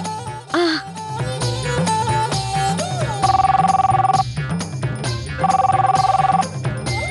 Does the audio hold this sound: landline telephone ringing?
yes